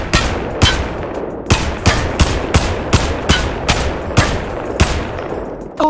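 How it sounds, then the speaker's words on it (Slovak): An M95 sniper rifle fires repeatedly in a Minecraft game, with about a dozen loud, sharp gunshots spaced roughly half a second apart and no talking. "Ďalšiu zbraň máme nejakú snajperku M95 a je to obrovitánska zbraň."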